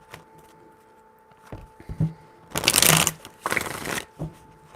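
Tarot cards shuffled by hand in a quiet room: soft riffling bursts, with a long loud flurry in the middle and a shorter one after it, plus a few scattered taps between.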